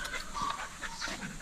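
An excited dog pants rapidly and steadily at close range, quick rhythmic breaths with no talking over them.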